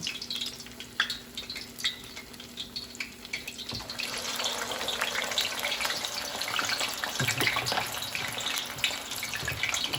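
Hands dip and swish in a bowl of cold water while hot water cornbread is shaped in a kitchen, with a soft splashing that grows fuller and steadier partway through over a faint background hiss.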